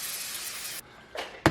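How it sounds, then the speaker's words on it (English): Spray adhesive hisses onto the back of cutaway embroidery stabilizer in two short bursts, each under a second, close by and with no talking. "all we're going to do is spray the back of this cutaway stabilizer"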